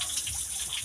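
Overflowing water rushing steadily, a loud continuous wash with no voices over it.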